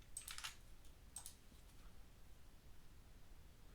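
Fast clicking keystrokes on a computer keyboard as a username and password are typed, two short bursts early on and then a faint steady background hiss.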